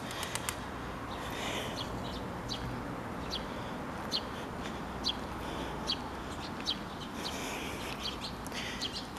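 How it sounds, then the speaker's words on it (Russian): Many birds call outdoors in a dense chorus, repeated short chirps and clucking notes scattered over a constant broadband background, moderately loud and fairly close, with no talking. "В этом году почему-то птиц очень много налетело."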